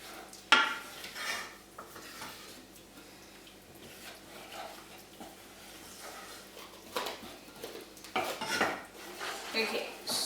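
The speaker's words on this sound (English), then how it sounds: "Okay, so I'm just going to stir it until all of the lumps of chocolate have dissolved, melted." Spoon stirring melting chocolate in a pan, with soft scraping and occasional sharp clinks of metal against the pan at moderate distance, no talking.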